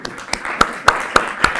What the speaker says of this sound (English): could we just give our organizers a tremendous round of applause